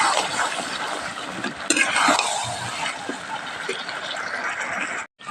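Country rooster meat sautés in oil in a pan, a continuous close sizzle with soft stirring scrapes, then a brief dropout near the end.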